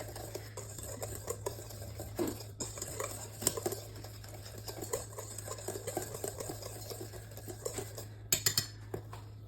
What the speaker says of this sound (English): we're gonna whisk it up really well before we put it into our wet mixture